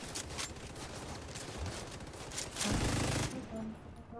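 Video game gunfire in rapid bursts and repeated shots, dense and loud, with a heavier blast near the end and voices talking underneath.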